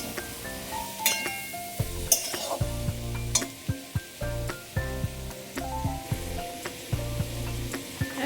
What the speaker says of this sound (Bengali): এবার একটু ভালো করে সবগুলোকে এক জায়গায় একটু নাড়াচাড়া করে নিই।